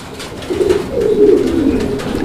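A male pigeon coos in a steady, low rolling murmur that swells in the middle and then tapers, close and fairly loud, with no voices over it.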